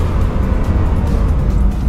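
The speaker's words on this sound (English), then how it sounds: "So now I will give you a demo about the deceleration power." A Bugatti Chiron brakes hard on the Nürburgring, heard as a loud, dense roar of wind and road noise that holds steady throughout the short stretch.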